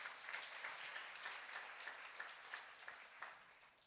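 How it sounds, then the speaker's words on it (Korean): A church congregation gives a faint, steady round of applause after a prayer at a New Year service, with many hands clapping together in a soft, distant wash that carries on throughout. "우리 주님께 영광의 박수 올려드리겠습니다"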